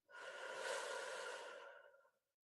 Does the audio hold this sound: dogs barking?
no